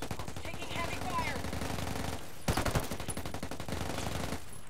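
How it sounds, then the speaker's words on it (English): Rapid bursts of gunfire in a first-person shooter video game, a dense crackling barrage that drops out briefly and returns with a few sharp louder shots, under game noise. "Taking heavy fire!"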